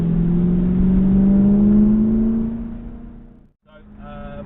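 A BMW M3 engine hums steadily and climbs slightly in pitch, then cuts out briefly before catching again as the car rev-matches on a manual downshift, heard from inside the cabin.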